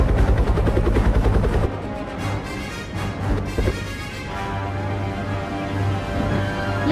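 Helicopter rotor and engine from the Military Tycoon video game, a steady loud whirring drone with fast rhythmic chopping that continues throughout, dipping slightly partway through.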